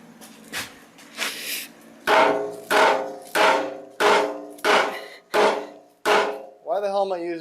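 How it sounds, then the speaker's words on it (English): A Harbor Freight hammer strikes the gearbox of an Ariens ST824 snowblower: two softer taps, then seven loud, evenly spaced metallic blows that each ring briefly, followed by a short tonal sound at the end. "Good old Harbor Freight hammer."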